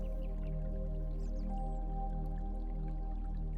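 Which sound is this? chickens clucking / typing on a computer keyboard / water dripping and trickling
water dripping and trickling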